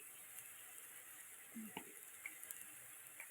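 Spices frying in oil in a pan for a prawn and vegetable dish, a faint soft sizzle with a few light clinks and stirring scrapes, quiet and close.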